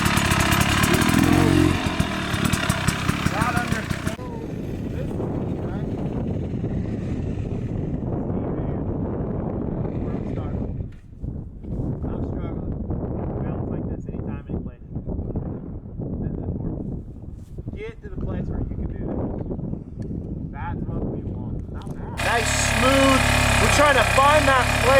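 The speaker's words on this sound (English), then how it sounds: "Trying to find that place where that bike makes that one note sound, right?" Motorcycle engine running steadily while a rider moves through a riding clinic exercise, with loud wind rumble bursts at the start and end and talk over the continuous engine drone.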